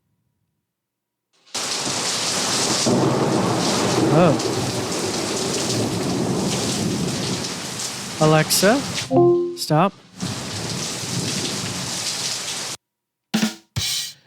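A recording of summer rain with rolling thunder plays from an Alexa smart speaker as a steady, dense downpour, interrupted near the end by a person speaking before it cuts off abruptly.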